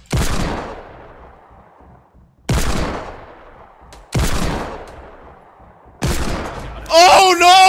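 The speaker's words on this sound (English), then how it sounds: "Wait, was that you shooting too?" Fortnite gunfire rings out as four loud, separate shots spaced about two seconds apart, each a sharp crack with a decaying echoing tail, followed by a whistling warble at the end.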